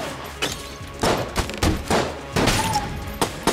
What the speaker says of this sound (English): all you have to do is just go around and shoot people and try not to die.